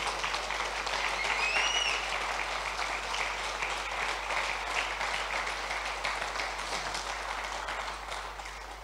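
Steady applause from a church congregation fills the space evenly, moderately loud and continuous throughout, tapering slightly toward the end.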